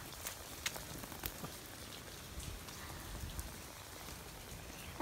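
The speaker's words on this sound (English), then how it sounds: "I'm getting a wash by the rain." Steady rain falls outdoors onto a surface, a dense even hiss with scattered louder drop hits, moderately close and with no voices heard.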